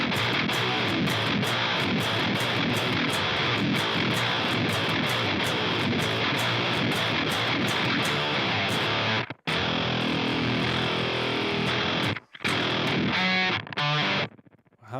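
Heavily distorted baritone guitar plays a thick, gnarly sustained riff, loud and dense throughout, cutting out briefly near the end in a few short gaps before resuming.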